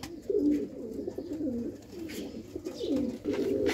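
Pigeons coo close by in repeated soft, throaty rolling calls, overlapping one another with a faint background hum.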